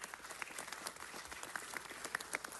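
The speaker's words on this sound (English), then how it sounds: "That's another statistic that deserves a round of applause." Scattered applause from a fairly small crowd at a city council meeting, quiet and a little distant, with irregular claps continuing steadily throughout.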